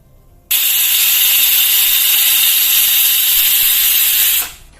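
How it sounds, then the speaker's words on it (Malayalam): A loud, steady high-pitched steam whistle blasts continuously for about four seconds, then cuts off abruptly, leaving faint background noise. "ഇപ്പൊ രണ്ടാമത്തെ വിസിലും വന്നു."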